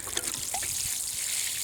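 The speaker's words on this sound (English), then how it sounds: "Pour it on, let it sink in." Water pours steadily from a watering can of about nine litres onto a freshly transplanted small tree, a continuous close trickle and splash outdoors with no talking.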